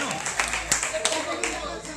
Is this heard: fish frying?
no